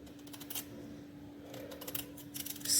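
A kitchen knife slices sweet potato thinly for chips, producing quick, sharp clicking cuts in uneven clusters that grow louder toward the end, close and alone.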